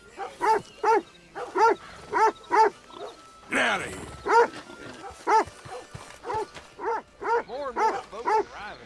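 A dog in Red Dead Redemption 2 barks repeatedly in a steady rhythm of sharp, close barks, broken once by a brief growl or snarl, with a voice speaking faintly in between.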